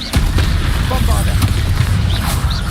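Bombarda blasting spell going off in Hogwarts Legacy, a dense burst of deep booms and crackling impacts filling the whole moment, loud and close amid ongoing combat noise.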